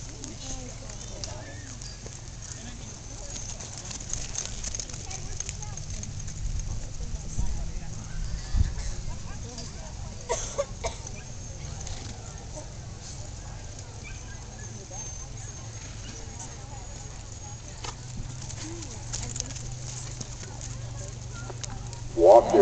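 Horses walking at a Western pleasure class at an APHA horse show on county fairgrounds, faint scattered hoof clip-clops over a low steady background hum, with voices occasionally heard.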